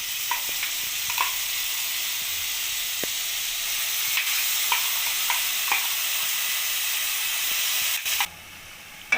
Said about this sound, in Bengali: আমি মশলাটা দিয়ে ভালো করে পেঁয়াজটা কষিয়ে নেব।